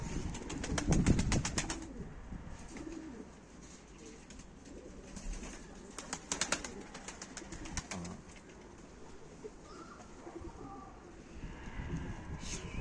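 Mardin pigeons coo softly nearby in open air, with wing flaps and brief flutters of flight, and scattered faint chirps in the background.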